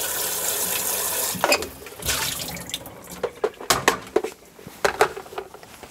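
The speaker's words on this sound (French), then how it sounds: "vous allez la rincer sous le robinet" An electric kettle being rinsed under a kitchen faucet after descaling, with steady running water at first, then irregular splashes and sloshing as the water is swirled and poured out.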